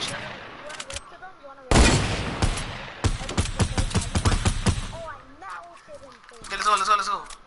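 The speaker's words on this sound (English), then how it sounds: "Oh shit, that's a rocket launcher." A rocket launcher fires in a video game, with several loud, booming bursts amid rattling gunfire and quieter gaps, while players talk excitedly over the action.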